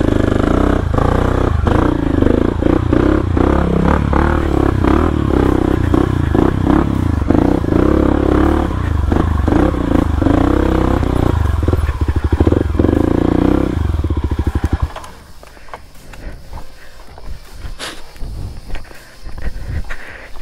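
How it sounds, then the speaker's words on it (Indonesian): A motorcycle climbs an off-road hiking trail up Puncak Upas on Gunung Tangkuban Parahu, its engine loud and straining with clatter and scraping, then cutting out and leaving quieter rustles and footsteps. "Kita turun dulu, naikin motor si Alung"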